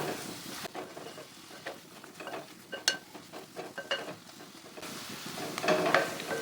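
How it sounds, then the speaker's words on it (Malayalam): Winter melon curry being stirred in a pan over a low flame, with soft scraping strokes and a faint sizzle running steadily throughout, close and fairly quiet. "ഇത് നന്നായിട്ട് മിക്സ് ചെയ്യാം തീ ഒരു ലോ ഫ്ലെയിമിൽ വെച്ചിട്ട് തന്നെ ഒന്ന് മിക്സ് ചെയ്തെടുത്താൽ മതി"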